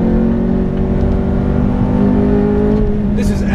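A Ferrari F430 with a manual stick-shift gearbox sends out a loud, sustained engine drone with a strong tonal hum, holding steady before a brief lift near the end.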